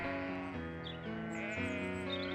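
Sheep in the Babe video game for PlayStation 2 bleat in a steady, wavering run of close, nasal cries that shift pitch every half second or so, with no speech.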